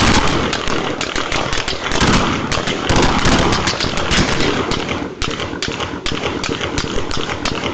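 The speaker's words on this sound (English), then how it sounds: "Damn, all them shots already" Rapid volleys of gunshots crack continuously and loudly, dense overlapping bursts filling the whole span with only a brief lull near the end, some shouting mixed in.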